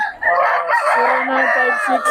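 A rooster crows loudly and close by, one long drawn-out call that wavers in pitch.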